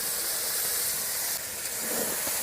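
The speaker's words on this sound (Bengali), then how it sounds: "এবার মাছ দিয়ে দেবো" Small chunopunti and parshe fish hit hot oil in a village kitchen, producing a dense, constant sizzling hiss with a slight surge partway through, close and steady with no voices.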